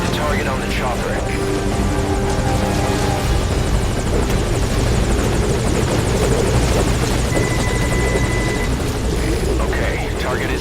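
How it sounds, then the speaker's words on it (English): A helicopter in Metal Gear Solid V: Ground Zeroes hovers close and loud, with steady rotor thumping and engine whine throughout. People talk over it. "Put the target on the chopper."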